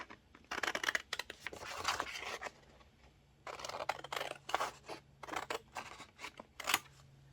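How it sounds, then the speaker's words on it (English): Scissors snip through paper journal page tabs for a Halloween mixed-media journal, in quick bursts of close crisp cuts separated by short pauses. "all I have to do is cut, cut, cut"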